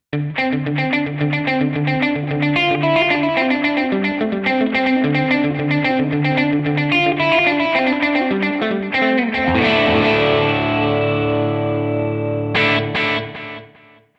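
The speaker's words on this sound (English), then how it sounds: "Then we've got one called plus delay." Electric guitar through the plus delay setting of a Boss RV-200 reverb pedal, a loud, continuous run of distorted picked notes with repeating echoes and a wash of reverb, ending on sustained chords that ring out and fade.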